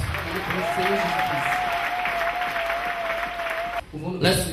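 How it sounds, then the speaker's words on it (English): A church congregation claps during a service, a loud, sustained wash of applause with a held tone running beneath and voices mixing in before the clapping fades near the end. "Clap for our Lord Jesus Christ."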